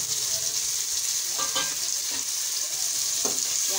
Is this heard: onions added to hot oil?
yes